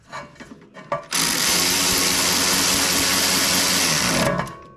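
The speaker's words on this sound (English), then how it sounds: "Now that little ratchet, it's not the torquiest little thing, but it works very well." A small ratchet drives a strut bolt on a 1997-2001 Honda CR-V front strut, sounding as a loud, close, continuous whirring buzz of about three seconds, framed by a few faint clicks and clanks before and after.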